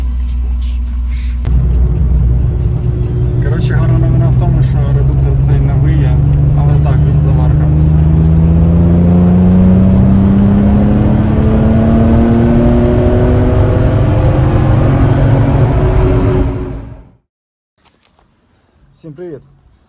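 A BMW E36 engine drones steadily as the car drives, pitch slowly rising with speed, loud and close, then abruptly cutting to near silence.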